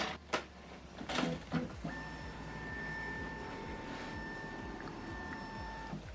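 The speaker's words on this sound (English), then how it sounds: "Now the document is scanning" An Epson WF2910DWF inkjet printer scans a document: a few mechanical clunks at the start, then a steady motorized hum with sustained whining tones as the scan head travels, ending in a soft clunk; no talking.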